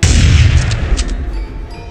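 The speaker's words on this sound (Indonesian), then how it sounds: "suara tembakan membabi buta telak menghujani tubuh Pak Kiai" A loud, booming burst of gunfire from a staged colossal drama, with heavy low blasts rolling together close up, then decaying over about two seconds.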